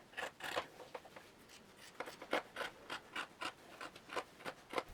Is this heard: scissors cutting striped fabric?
yes